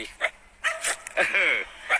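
A dog barks and yips in short, sharp bursts, close by, with a rising whimpering bark in the middle, while someone talks excitedly over and between the barks.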